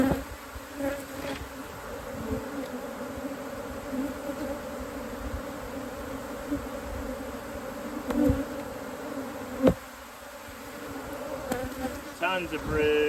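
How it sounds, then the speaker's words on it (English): Dense, steady buzzing of a crowd of honeybees rising from an opened hive during a split and requeen, a continuous close drone with a few brief knocks and handling noises. "Boy, a lot of bees."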